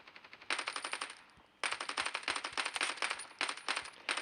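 Rapid bursts of automatic gunfire in the video game Standoff 2, loud and close, in two long volleys with a brief pause between them.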